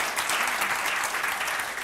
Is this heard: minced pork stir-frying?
no